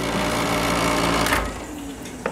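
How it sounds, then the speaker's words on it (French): A loud air conditioner runs with a dense, steady roar and whine. It cuts off partway through, leaving a quieter room hum. "On va couper la clim qui fait un bruit de fou."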